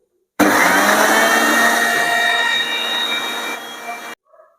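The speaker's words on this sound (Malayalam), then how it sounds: "ഇനി നന്നായിട്ട് നമുക്കൊന്ന് മിക്സിയിൽ മാംഗോ അടിക്കണം കേട്ടോ." An electric mixer grinder whirs loudly as it blends mango for lassi, a dense steady roar that starts abruptly, eases slightly toward the end and cuts off after about four seconds.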